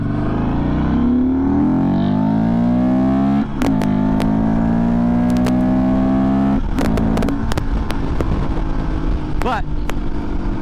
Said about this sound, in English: We spent good money on drag pipes. It sounds so good.